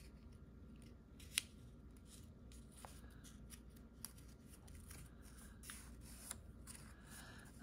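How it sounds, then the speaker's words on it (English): Scissors cutting through folded double-sided cardstock in a quiet room: sparse, soft snips and a few sharper clicks of the blades spaced irregularly, close to the microphone. "This one, I'm gonna cut out of this side."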